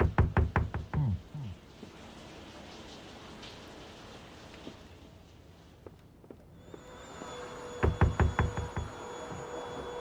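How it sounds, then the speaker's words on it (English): Knocking on a door in a video game: a quick burst of hard, close raps opens, then a stretch of low hissing ambience, and another rapid series of knocks lands near the end. "Can I knock again?"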